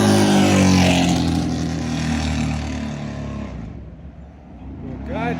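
A car drives past fast nearby, its engine noise loud at first and slowly fading away, with talk heard over it.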